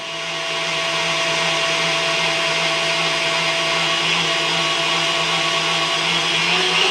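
Electric mixer whisking lemon angel food cake batter, a loud steady high whir that ramps up at the start and then holds constant, with no talk.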